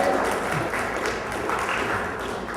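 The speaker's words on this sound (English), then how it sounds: "go ahead, clap" Scattered audience clapping at a software presentation, a soft, muffled patter of hands heard from a distance, continuing evenly throughout.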